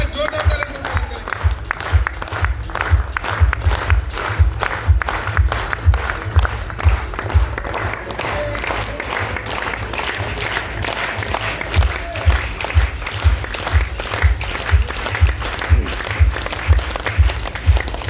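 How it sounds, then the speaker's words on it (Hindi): Audience applause welcomes a guest at an event, a sustained wash of clapping over a steady, rhythmic low thumping that carries through the whole stretch, with a voice speaking over it. "तालियां काफी का जोरदार तालियों से स्वागत करें।"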